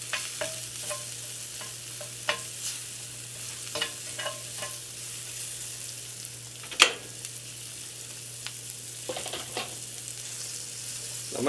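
Shrimp sizzle in a hot cast iron pan, a faint steady frying hiss broken by soft scrapes and clinks of stirring, with one sharper clatter midway.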